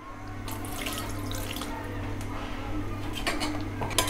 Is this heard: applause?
no